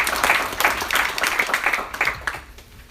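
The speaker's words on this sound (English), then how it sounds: "And I think Richard deserves the applause." A small group at a community association meeting claps briefly, with distinct separate hand claps in a loose rhythm that thin out and stop within a few seconds.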